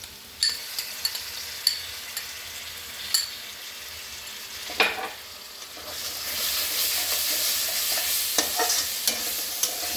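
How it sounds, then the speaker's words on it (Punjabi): Onions and ginger garlic paste fry in a pan for paneer butter masala while a spoon stirs, with scattered scraping clicks at first, then a steady, louder sizzle and hiss building toward the end. "ਇਹਨੂੰ ਨੂੰ ਹਿਲਾਉਂਦੇ ਰਹਿਣਾ ਨਾਲ ਕਿਉਂਕਿ ਪੇਸਟ ਹੁੰਦੀ ਹੈ ਨਾ ਫਿਰ ਥੱਲੇ ਲੱਗਣ ਲੱਗ ਜਾਂਦੀ ਹੈ"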